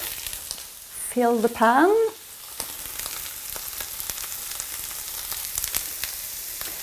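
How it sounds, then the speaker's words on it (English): Oyster mushrooms sauté in a pan with a steady sizzle that goes on after a short stretch of speech near the start, with occasional faint clinks and stirring. "So I will just saute those"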